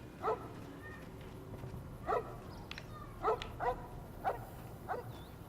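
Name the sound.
dog barking in the Fallout New Vegas video game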